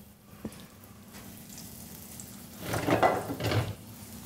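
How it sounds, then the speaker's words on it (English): Fish fillets sauteing in a pan at Pensacola Bay Brewery, a quiet start giving way to a louder, broadband sizzle with bursts of frying crackle and a light clink of the pan near the end. "We're just going to saute that"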